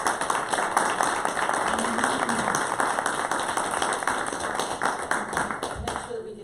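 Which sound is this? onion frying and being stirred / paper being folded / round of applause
round of applause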